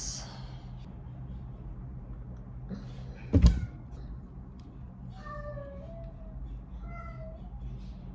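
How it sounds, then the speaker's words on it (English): A few faint, short cat meows in a quiet room, following a sharp knock or thump. "Can you hear my cat crying?"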